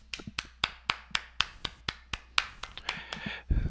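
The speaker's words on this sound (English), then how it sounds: "clap it up" A single person claps hands along with music, about a dozen sharp, evenly spaced claps over a few seconds, close and crisp.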